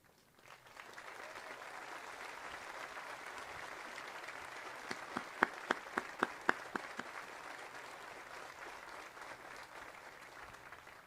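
Steady, wide applause from a large commencement crowd for city representatives at a high school graduation, sustained and moderately distant, with a few sharper individual claps standing out midway.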